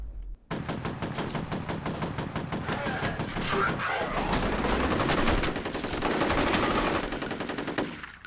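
Gunfire from the shooter game F.E.A.R. comes as a sustained rapid automatic burst of closely spaced loud shots, close and dense, that continues for several seconds with a brief gap before the volley picks up again.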